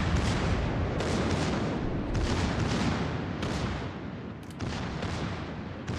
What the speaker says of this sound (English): My secondaries are going off.